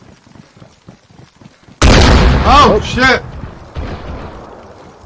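Explosions go off in the survival video game DayZ: a sudden loud boom followed by rumbling blasts, with a man exclaiming over the noise.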